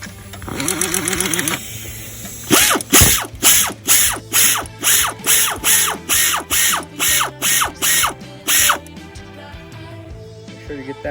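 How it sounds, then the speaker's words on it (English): A ratchet tightens the belt tensioning bolt on a Jeep Cherokee XJ, giving about a dozen loud, evenly spaced clicking strokes close to the mic, each a rapid burst of pawl clicks. No one talks over it. "Now we're going to start tightening up here"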